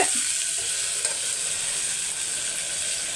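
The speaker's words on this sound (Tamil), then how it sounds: "இப்போ இதை வறுத்துட்டு தான் ஒன்று ஒன்றா நம்ம வறுக்கணும்" White urad dal and millet dry roasting in a pan, giving a steady, dense crackling hiss that holds evenly for the whole stretch, close and fairly loud with no voices.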